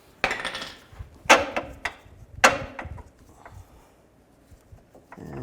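Hammer blows tapping a lower control arm bolt on a 2003–2007 Cadillac CTS front passenger side, three sharp metallic strikes with lighter knocks between, close and loud, then quiet.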